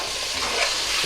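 Chopped tomatoes stirred into a sizzling Pakistani beef stew give a brief burst of crackling frying and scraping, close and steady, with no voices.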